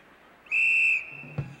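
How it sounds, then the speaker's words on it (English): A single sharp rodeo whistle at a professional cowboy bull-fighting event blows one loud, steady blast of about half a second, then fades into a brief thud and faint crowd noise. "That whistle signifies 60 seconds is up."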